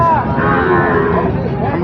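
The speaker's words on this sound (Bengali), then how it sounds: "ভিতরে যত গরু দেখছেন সব শাহিওয়াল, পাকড়া শাহিওয়াল ষাঁড় বাছুর" Sahiwal bull calves at a busy village cattle market let out a loud, close moo that fills the short moment on its own.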